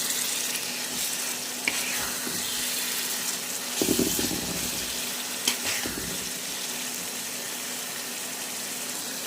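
Shrimp masala sautés in a pan with a steady sizzle, broken by a few louder bursts of stirring and spatula scrapes, close by and without talk.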